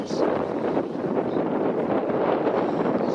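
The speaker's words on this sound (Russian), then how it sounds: "Сегодня ветер у нас такой прохладненький." Steady wind buffeting the microphone, a continuous low rumble and rush with no breaks.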